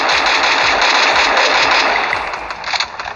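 Sustained automatic gunfire in the mobile shooter Garena Free Fire, a loud, dense, continuous burst of rapid shots that thins out near the end.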